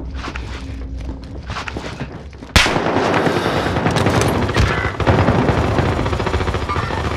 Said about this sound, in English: Taking shots, get down.